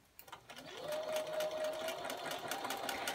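A sewing machine stitches around the edge of a nine-patch pillow: faint handling noise at first, then a steady close whirring hum that keeps running to the end.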